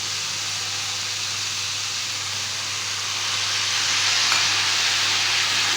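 Vegetables fry in a pan with garam masala, chili powder, salt and sauce, a steady loud sizzle and hiss swelling slightly toward the end, with no talking.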